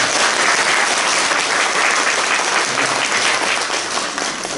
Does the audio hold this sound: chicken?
no